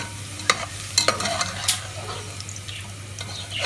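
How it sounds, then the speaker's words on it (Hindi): Masala being fried in a pan for a mutton and bitter gourd curry, with scraping stirs and a few sharp clinks over a steady low sizzle, close and moderately loud. "अब हम मसाला भुनेंगे।"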